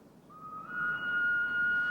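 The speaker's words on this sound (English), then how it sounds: "2 steam shovels, as battered as if they'd been through a war, met at the bottom of Culebra Cut and sounded their whistles." Steam whistle from a steam shovel at the bottom of Culebra Cut during Panama Canal construction, a single sustained shrill tone starting faintly and swelling louder, held steady for over a second.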